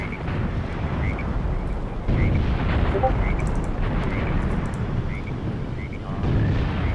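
Troops firing weapons on jungle terrain in Graviteam Tactics: Mius Front, 1980 South Africa, a steady rumble of distant rifle and artillery fire with repeated faint popping shots throughout.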